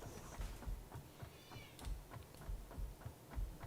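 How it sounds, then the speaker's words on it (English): An elderly cat meows in a soft, faint series of short cries repeating steadily over low background noise, with no talk. "Oldest cat ever yelling at me."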